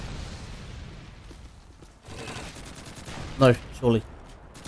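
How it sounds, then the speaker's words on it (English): Gunfire and explosions rumble steadily in the background of a Call of Duty 2 battle, with a few louder blasts before someone speaks briefly over the noise. "all those explosions out there, I can't hear shit"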